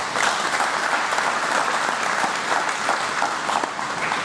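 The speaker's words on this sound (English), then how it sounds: "let's give those folks a round of applause" A room full of people claps steadily and fairly close for a few seconds, a dense even burst of applause with no voices over it.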